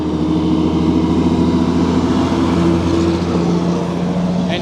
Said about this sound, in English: That truck's a scrap metal and carry truck, so that's a recycling truck